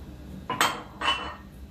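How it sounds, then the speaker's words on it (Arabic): Two quick scraping clinks, as a utensil crushes lumps of dry sugar in a bowl for an eggless lemon cake: short, close and fairly crisp, separated by a brief pause. "نحبك هادوما نسحق هذا النشف تاع السكر"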